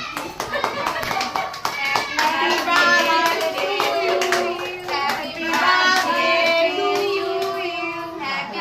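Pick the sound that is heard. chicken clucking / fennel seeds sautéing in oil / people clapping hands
people clapping hands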